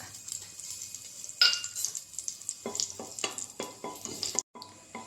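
Fennel seeds sizzle in hot coconut oil in a pan while an egg curry is being started. A soft, steady hiss runs under sharp spoon clinks and scraping against the pan.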